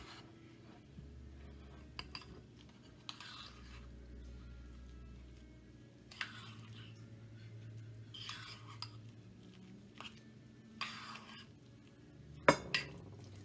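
A utensil stirs deviled egg filling with mayo in a bowl, giving soft intermittent scraping and mashing strokes with a few light clinks and a sharper knock near the end, quiet and close, no speech.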